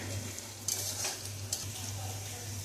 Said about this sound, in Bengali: পেঁয়াজটা খানিকটা বেরেস্তার মতো করা হবে,